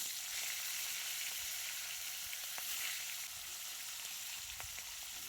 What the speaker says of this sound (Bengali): তেলটা গরম হয়ে গেলে মাছগুলোকে হালকা করে সাঁতলে নিতে হবে।